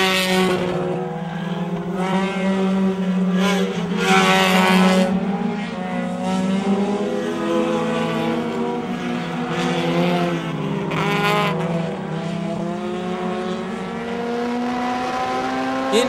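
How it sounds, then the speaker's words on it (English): A Honda S2000 race car at Mid-Ohio during a Honda Challenge race in 2004, engine howling loudly as it passes, pitch sweeping and shifting through gears over about sixteen seconds, with another engine briefly overlapping. "Mike Pendola's S2000 passes by"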